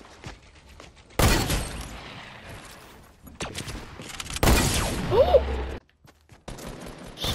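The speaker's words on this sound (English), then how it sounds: "I just sniped somebody." Sniper rifle fire in a video game: two sharp, loud gunshot blasts a few seconds apart, each with a ringing tail, amid scattered quieter clicks and distant shots.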